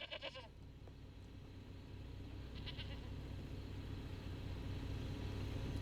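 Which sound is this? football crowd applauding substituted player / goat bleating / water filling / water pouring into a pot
goat bleating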